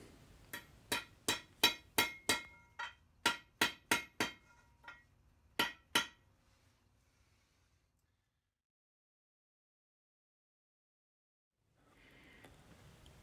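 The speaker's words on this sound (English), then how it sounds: "I then hammer these wedges together into a point" Galvanized steel wedges hammered together into a point: about a dozen sharp, ringing metallic strikes in quick bursts, close and loud, then silence with faint background noise at the end.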